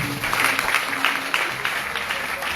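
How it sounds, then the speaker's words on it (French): Moderate applause from a gathering, steady clapping with a faint voice underneath. "Applaudissez-vous, s'il vous plaît."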